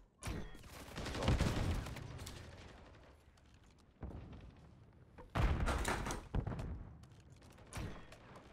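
Pistol gunfire in Call of Duty MW3, a first-person shooter, sounding as loud bursts of sharp shots and thuds separated by quieter stretches of game noise, with no one talking.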